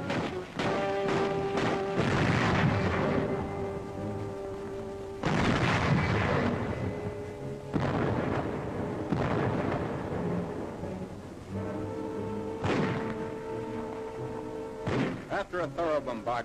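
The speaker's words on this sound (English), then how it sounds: "The Nazis direct their fire across the harbor." A 1939 newsreel captures German artillery firing across the harbor at the Polish defenses of Gdynia, with repeated heavy booms breaking through a continuous dramatic music track.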